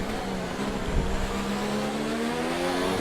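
F1 racing car engine from the game F1 2019 at the Singapore Grand Prix, a high-pitched whine revving and climbing steadily in pitch, loud and continuous with a brief bump near the start.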